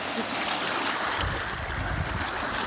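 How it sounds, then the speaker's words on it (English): Lake waves wash along the shore near Marquette, Michigan, a steady broadband rush with low surging swells that thicken after the first second, close and continuous, with wind noise and no talk. "Listen to the waves."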